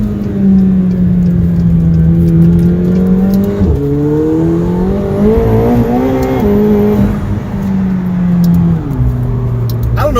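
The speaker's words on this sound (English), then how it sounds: "I don't know if y'all can hear them turbos and that blow-off valve and all that beautiful stuff that's going on in this car" A 2019 McLaren 720S heard from inside while driving, its turbocharged engine droning loudly and rising and falling in pitch as it accelerates and eases off.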